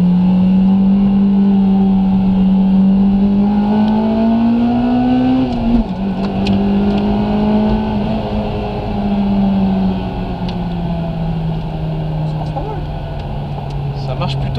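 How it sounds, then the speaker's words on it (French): A Honda Civic Type R EP3 engine accelerates and revs, its tone climbing steadily, dipping briefly at a gear change and then climbing again, loud and close throughout. "Il est en train d'accélérer et il est en train de monter dans les tours, du coup tu entends le bruit"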